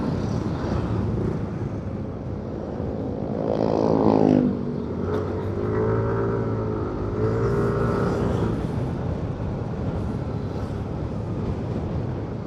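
Road traffic in Tiaong, Quezon, heard from a moving motorbike on the way to Tikub Lake: a steady engine and wind roar, with vehicles swelling past and one louder pass partway through.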